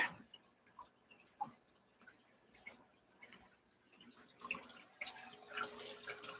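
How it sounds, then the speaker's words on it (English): Small stream of water trickling through a freshly cleared channel beside a pond, faint and close, with soft irregular drips and gurgles that swell slightly toward the end. "So we got some water coming through here."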